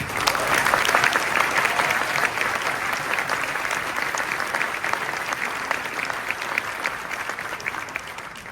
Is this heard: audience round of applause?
yes